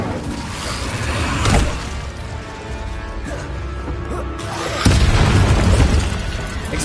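An Incendio fire spell cast in a Harry Potter game, with loud booming bursts and crashing impacts, two strong blasts standing out over a steady roar of battle noise.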